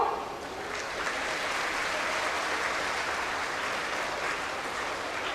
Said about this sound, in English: Let's hear a big round of applause from the new students of IGDTU.